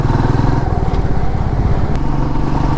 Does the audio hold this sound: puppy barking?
no